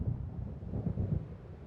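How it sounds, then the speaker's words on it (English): Low rolling thunder of an approaching storm in Alan Wake Remastered, faint and distant, a few soft rumbling swells over a steady windy background with no voices. "It seems there's a storm coming."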